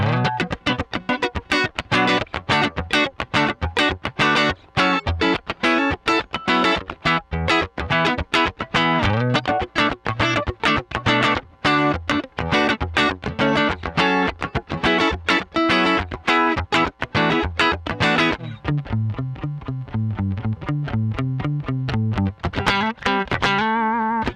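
Electric guitar, a Stratocaster played straight into a DI with a parametric EQ, with a distorted, effected tone, fast rhythmic strumming and riffs throughout, ending in a few sustained chords; no voices.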